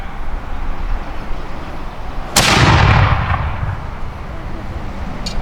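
Militia reenactors at a historical fall muster fire a musket volley. A single loud, sharp blast breaks out of quiet background noise and rolls away in a long, fading echo over a few seconds.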